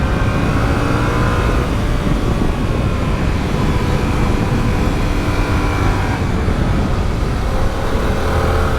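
A 2022 Yamaha YZF-R7 motorcycle engine runs hard on a race circuit, a loud, continuous close roar that rises and falls through gear changes with no let-up.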